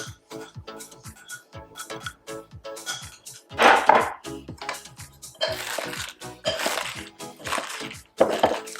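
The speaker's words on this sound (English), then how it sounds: "now we want to put the batter over the cabbage, and we want to mix that in" Okonomiyaki batter being stirred into shredded cabbage in a bowl: a steady run of soft wet clicks, scrapes and tapping knocks from the mixing utensil, close up, with a few louder clattering strokes.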